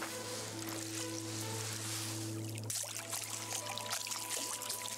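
Water pours and splashes in the No Man's Sky video game, a faint continuous wash with trickling and surf-like texture alongside steady tonal game hums.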